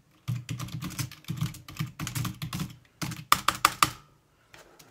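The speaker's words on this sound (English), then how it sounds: "You can see there I'm typing fast." Quick typing on a Samsung S6 Lite keyboard in close, steady bursts of clicks, ending with a few sharper, louder keystrokes before going quiet.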